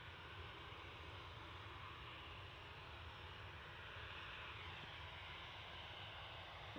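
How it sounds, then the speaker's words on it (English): A Ryanair airliner at Manchester Airport gives a steady, broad roar of jet engines, faint and distant, with no change in level throughout. "Not quite sure where this Ryanair's off."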